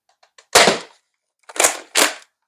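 A modded Nerf Red Rival Takedown blaster fires three sharp, loud shots over a chronograph in a workshop: one at first, then a pause, then two in quick succession, with faint small clicks of handling before the first.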